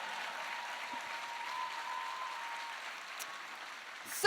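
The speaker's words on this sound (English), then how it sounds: "So a big round of applause for Ryan." Faint, steady applause from an audience at an autism talent show, a soft distant wash of clapping sustained throughout with a faint tone beneath.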